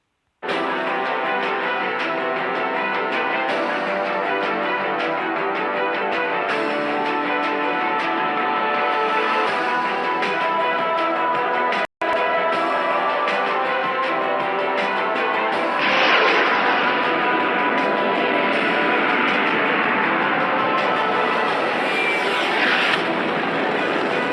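Missile launches and infrastructure destruction, a loud sustained roar like aircraft or jet engines throughout, with a brief cut near the middle and a rising rushing sweep in the second half.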